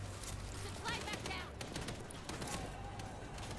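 Rapid automatic turret gunfire from a World War Z co-op zombie game mission in France, a dense continuous rattle of shots loaded with explosive ammo, steady and loud throughout.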